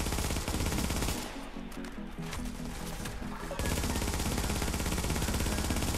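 Rapid automatic MP7 gunfire in a video game, a dense continuous rattle of shots filling the whole stretch, loud and close with a brief thinner patch in the middle.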